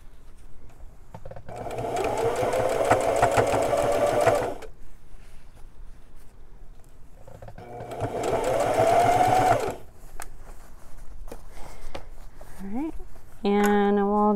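A sewing machine hems a pair of jeans in two steady runs of rapid stitching, each several seconds long, close and clear. A few short tones sound at the end.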